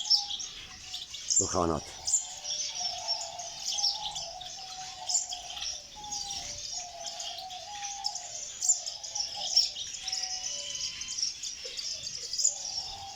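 Birds in an Iraqi reserve holding over a thousand birds of fifty species chirp and sing continuously in the distance, layered over a steady insect buzz, with a short spoken word early on.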